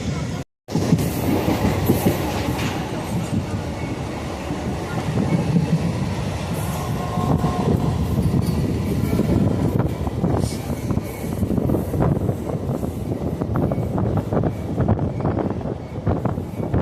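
A train rumbles steadily along the tracks with a dense, continuous roar and faint rhythmic clatter, loud and close, after a brief dropout at the start.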